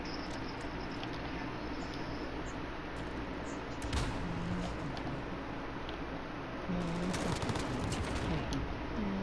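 Faint, distant gunfire in Call of Duty: Modern Warfare multiplayer, a few sharp shots popping over a steady noisy game background, quiet and somewhat buried.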